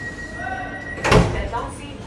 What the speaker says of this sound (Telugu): Doors close.